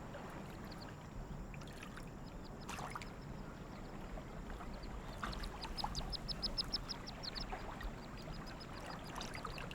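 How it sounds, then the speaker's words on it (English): Scattered mandarin duck quacks sound at a distance over a soft watery background in Beijing, a few short bursts clustering toward the end. "Beijing's mandarin ducks are highly protected."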